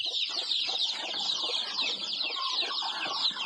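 Chickens cluck steadily and close by on a farm where fresh eggs lie in the nest, a dense overlapping flock chatter with no speech.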